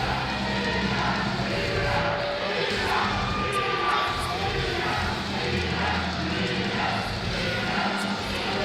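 Arena crowd in the Killer Instinct fighting game roars and murmurs continuously with scattered shouts, a dense, steady wash of noise that lasts throughout.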